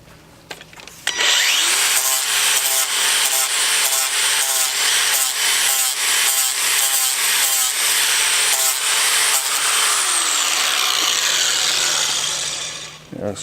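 A worn grinder disc cuts metal for a Chevy Blazer front bumper build, a loud, continuous high whine with rhythmic rasping pulses that runs for about ten seconds before spinning down.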